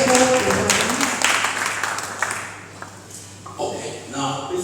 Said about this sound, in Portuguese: Aplaudimos pela palavra.